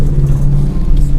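A Mitsubishi Pajero Sport Exceed 2.5 diesel SUV drives along a rough road, its engine giving a steady, loud low rumble and whir that holds throughout with no break.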